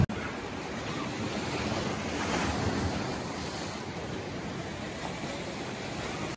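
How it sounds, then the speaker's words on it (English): Strong wind roars across the microphone over the steady wash of waves breaking on a beach at Llangrannog, Ceredigion, Wales, continuous and fairly loud. "it is too cold to be getting in that water and very windy."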